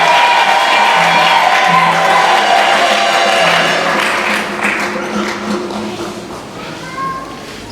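A congregation at a Christmas church service claps and cheers together, a dense, loud wash of applause and crowd voices that eases off slightly toward the end.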